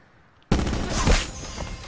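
A sudden burst of rapid gunfire from a shooting video game cuts in after a half-second of near silence and keeps going as a dense, loud barrage until the end.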